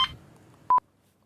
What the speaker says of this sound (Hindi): एक मिनट, शायद फोन।